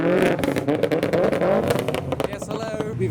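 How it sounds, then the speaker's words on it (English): Mazda RX-8 exhaust crackles with rapid pops and bangs amid a busy line of cars crawling into a JDM show, engines revving nearby while someone talks over it. "there's the pops and bangs from the RX-8. That's a painful noise"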